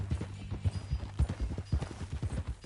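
Horse hooves clip-clop at a steady trotting rhythm in the video game Red Dead Redemption 2, a close run of quick, dull thuds with no voices over them.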